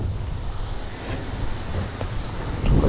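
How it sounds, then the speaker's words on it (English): Strong hurricane wind roars steadily and loudly across the microphone during street skateboarding, a dense rushing blast with no talking. "I don't even understand how it's so windy"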